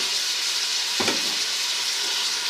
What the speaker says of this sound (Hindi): थोड़ा सा भूनेंगे